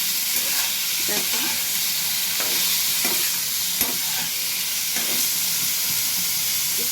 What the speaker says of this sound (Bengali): একটু নাড়াচাড়া করলেই হয়ে যাবে, খুব কড়া করে কিন্তু আমি ভাজবো না এগুলো।